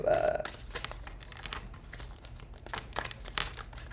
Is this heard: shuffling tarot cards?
yes